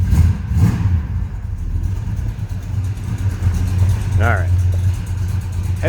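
A 1967 Plymouth GTX V8 idles close by with a lumpy, loping cam rhythm and a low rumble, while someone talks over it.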